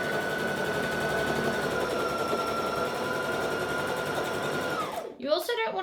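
A close sewing machine stitches a dress seam in a steady, rapid whirr for about five seconds. It then stops, and a voice follows briefly.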